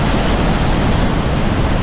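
Red River floodwater roars steadily at Lake Texoma, a loud, unbroken rushing wash of heavy flow with no pauses.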